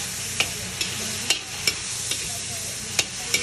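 Chop suey meat stirred in a pan over a constant sizzle, with a series of crisp spatula scrapes and taps at irregular intervals, close and clear with no voices.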